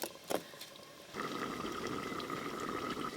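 Elephant foot yam simmers in a covered pot of water on a steady flame, a soft continuous bubbling hiss that starts abruptly after a brief quiet moment and holds even and close.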